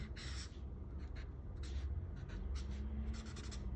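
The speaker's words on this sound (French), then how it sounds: "on vient colorier une petite partie de notre bambou" Pencil colouring in lime green on paper for a bamboo section of a manga-style drawing, heard as soft continuous scratchy strokes close up, rising and falling in short bursts over a low steady background hum.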